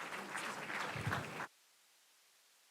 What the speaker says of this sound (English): Can we have a big round of applause for all the PhD awardees?